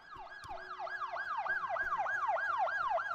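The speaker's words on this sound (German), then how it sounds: "So, wo ist der Krankenwagen?" An ambulance siren from the hospital management game Project Hospital wails in a steady, repeating rising-and-falling cycle, loud and continuous, with no talk over it.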